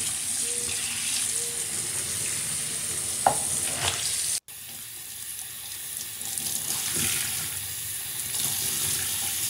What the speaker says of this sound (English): I'm about to start rinsing.